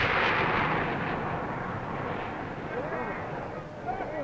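A large gun fires a 475-pound Martlet 1A projectile in Barbados, a loud sustained roar and rumble that slowly fades over several seconds, with faint voices after.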